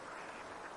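Ducks quack on a laying-duck farm, a faint, steady, blended chatter from a flock with no single call standing out.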